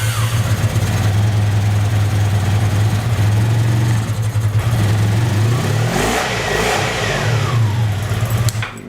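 A Honda Sabre motorcycle engine, mid-rebuild as a cafe project and low on carburetor fuel, runs close and loud with a steady idle, then revs and settles briefly, with no voices.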